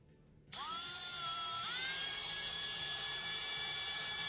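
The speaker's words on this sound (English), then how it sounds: "Slow and steady is definitely better for drilling these posts." A small drill whines steadily as it bores into the posts of a Johnny Lightning Zinger die-cast car, starting abruptly and holding a high sustained tone with a slight pitch shift partway through.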